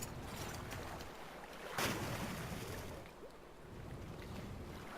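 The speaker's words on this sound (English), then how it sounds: "If you come down the stairs here and jump into the water," Splash of a character jumping into water in the video game Monster Hunter Tri, a brief burst over a steady wash of wind and waves, with no talk.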